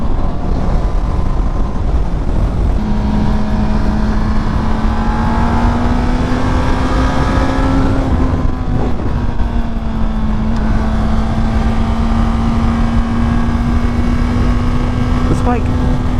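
Honda CBR650R sport bike fitted with E-clutch, its engine a steady loud drone while riding at speed, with wind noise throughout and a person talking over it.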